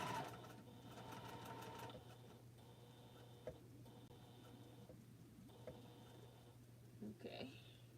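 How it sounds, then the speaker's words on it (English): A domestic sewing machine stitching quickly and steadily, its rapid mechanical ticking and motor hum continuous throughout with brief pauses, with a person's voice occasionally audible in the background. "This machine is sewing faster than that Bernina."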